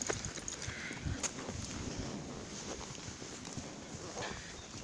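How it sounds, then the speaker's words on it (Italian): Horse hooves clip-clop steadily during a ride, a continuous run of close, moderately loud hoofbeats over outdoor background noise. "E stiamo andando a cavallo"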